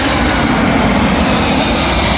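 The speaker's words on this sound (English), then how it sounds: "Arriving in now is a United Boeing 767 from EWR New York to London Heathrow." A United Boeing 767 arriving at London Heathrow on runway 27L, a loud, steady jet engine roar that fills the whole stretch with broadband rumble and hiss, with no pause and no voices.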